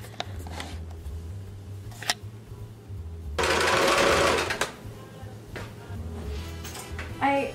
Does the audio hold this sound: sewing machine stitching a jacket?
yes